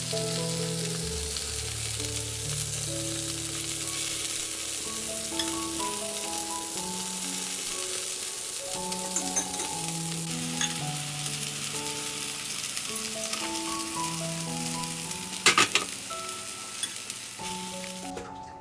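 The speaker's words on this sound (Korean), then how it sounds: "이제 후라이팬은 센 불로 예열을 해놓은 것을 다시 약불로 유지를 한 다음에 하나씩 하나씩 붙여줍니다" Oyster pancakes sizzle in a frying pan over low heat, a steady crackling fry that persists throughout, with a few sharp clatters near the end and light background music, no talking.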